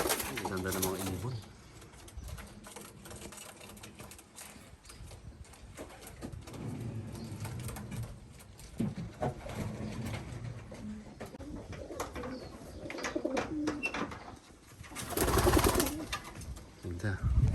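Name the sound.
racing pigeons cooing in loft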